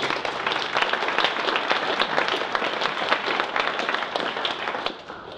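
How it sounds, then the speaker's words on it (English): An audience at an audio conference gives presenters a sustained round of applause, many hands clapping densely and steadily before tapering off at the end. "maybe we can do a round of applause to all the presenters so far."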